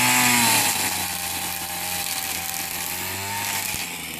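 Gas string trimmer running at high revs while cutting along a chain link fence at a fast pace, a loud, close, steady engine whine with the line buzzing and slapping.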